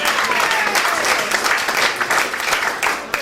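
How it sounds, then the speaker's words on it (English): Steady, dense applause from an audience at a live comedy show in Philadelphia, loud and continuous throughout with a few scattered whoops, no voices speaking over it. "Give us up, big round of applause."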